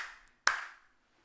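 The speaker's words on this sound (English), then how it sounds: "You said it like you wanted some applause, so I was just applauding" A single sharp handclap, close and loud, with a short ringing tail in a quiet room, no talk.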